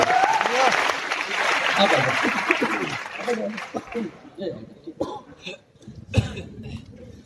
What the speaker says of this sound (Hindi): एक बार जोरदार हाथ ताली के लिए